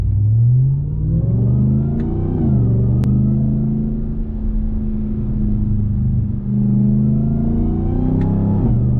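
A RAM TRX pickup truck accelerating, its supercharger whine rising over a steady engine rumble, fairly close and continuous, no talking.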